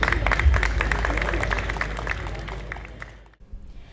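Crowd applause at a police outpost inauguration ceremony, with dense clapping that fades gradually and then cuts off abruptly near the end.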